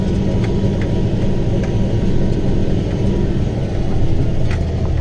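A John Deere 8320 tractor engine with 8,912 hours on it runs steadily during the harvest, a continuous loud low rumble that holds even for the whole stretch with no breaks.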